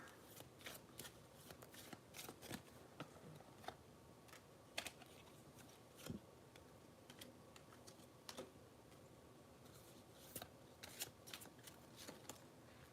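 A deck of tarot cards is shuffled in a quiet room, with irregular bursts of crisp riffling and flicking, some quick runs and some isolated snaps, close and fairly soft.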